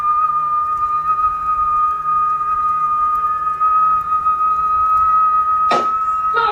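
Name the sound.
whistling during exorcism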